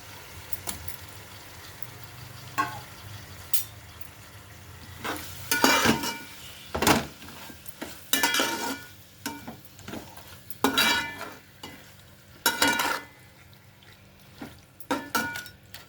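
Chicken for biryani fries in a pan with a low background sizzle, while loud bursts of stirring and utensil scraping against the pan come in irregular clusters throughout.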